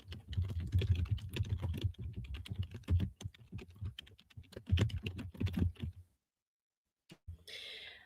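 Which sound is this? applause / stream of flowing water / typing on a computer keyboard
typing on a computer keyboard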